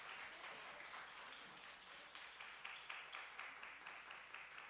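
Applause at a church Sunday afternoon worship service celebrating school entrance and graduation, a steady wash of many hands clapping from a congregation, fairly faint and distant, with quicker bursts toward the end.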